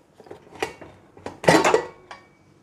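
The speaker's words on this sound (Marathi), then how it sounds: "आता मी कुकरचं झाकण काढते।" A pressure cooker lid comes off after chicken sukka has cooked through four whistles and the pressure has fully released: a few close metallic clanks and scrapes, with one louder rattling clatter in the middle, and no talking.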